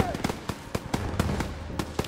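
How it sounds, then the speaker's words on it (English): Call of Duty WWII gunfire: sharp shots crack in an irregular burst of about ten reports, some close and loud, others farther off, over a low battlefield rumble. "Gunfire! We must be near our guys."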